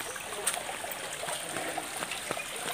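Water flows and trickles steadily from a natural spring, a continuous close rushing with occasional small splashes.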